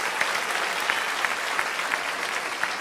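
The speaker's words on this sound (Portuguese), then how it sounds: "Quem crê nisso, aplauda o nome do Senhor" A church congregation applauds continuously, with dense, even clapping from many hands filling the room throughout.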